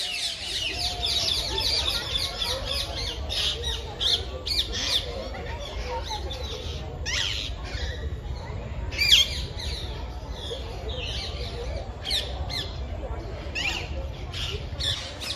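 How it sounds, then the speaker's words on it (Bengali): Ducks and assorted birds squawk, cluck and chatter in a large zoo aviary, a busy mix of overlapping calls with sharp bursts, while a person talks over them. "বিভিন্ন রকমের পাখির আওয়াজ, কোথাও হাঁসের, বিভিন্ন ধরনের হাঁসের প্রজাতি এখানে আছে।"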